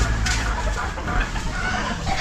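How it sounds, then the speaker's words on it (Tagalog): Chickens cluck steadily and close by at feeding time on a farm that also keeps pigs, a busy overlapping clucking under light background noise. "At tama-tama si Kuya Lone ay nagpapakain na sa kanyang mga alaga, baboy at manok"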